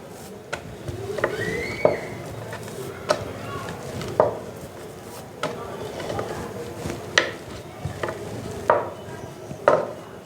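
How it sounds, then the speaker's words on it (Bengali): A rolling pin gently rolling out small chicken keema puri dough rounds on a board, with soft rolling rumbles punctuated by a dozen or so light wooden knocks at an irregular pace, close by. "আর এটাকে খুব আলতু হাতে বেলতে হবে, চাপলে হবে না, তাহলে ফেটে বেরিয়ে যাবে।"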